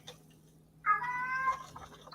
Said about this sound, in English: That's my cat that I was telling you guys about.